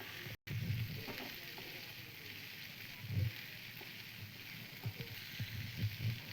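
Local corn kernels fry in oil with a constant crackling sizzle, punctuated by several soft stirring thumps and a brief dropout near the start, fairly quiet and close, with no talking.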